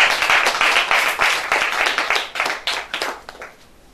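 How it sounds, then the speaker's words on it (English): Audience at a school debate clapping, a loud, dense burst of many hands that stays strong and close for a few seconds, then thins and fades toward the end. "Please clap for yourself."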